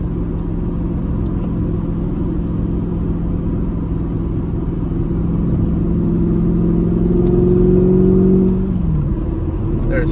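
A Chrysler-era Mercedes engine hums steadily in fourth gear while driving in traffic, rising slightly in pitch before easing off near the end, with a low road rumble throughout.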